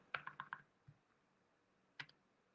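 Typing on a computer keyboard: a quick run of four or five crisp keystrokes, then a single tap and, after a pause, one more click, all quiet and close.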